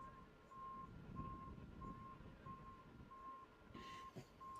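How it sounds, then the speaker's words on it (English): A JCB reverses at a motor racing circuit, its beeper sounding a regular string of faint, evenly spaced tones over low background rumble. "The faint, sad whine of the JCB going backwards."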